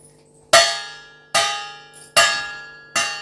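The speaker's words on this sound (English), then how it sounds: "when switch is on for the electric bell, the sound will be heard like this" An electric bell strikes four separate metallic rings at roughly even intervals, each a sharp bright hit that fades away slowly before the next, close and clear with no talking.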